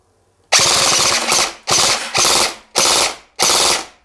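KWA Ronin TK.45 Tekken airsoft electric rifle firing full auto outdoors on a field: five loud, close, rapid mechanical bursts of clattering shots, each about half a second to a second long, separated by short pauses.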